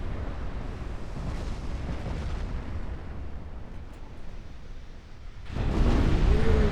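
Torpedo hits and explosions in the naval game Ultimate Admiral Dreadnoughts form a sustained heavy rumble, and a louder blast swells near the end.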